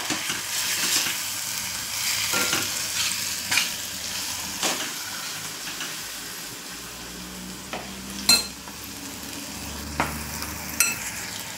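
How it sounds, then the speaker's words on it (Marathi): Spice masala of coriander-cumin powder fries in oil in a pan for a dhaba-style mixed vegetable gravy, a continuous sizzle broken by sharp spoon scrapes and taps as it is stirred, close by with no talk. "आपण आता हे पूर्ण मसाले मिक्स करतोय।"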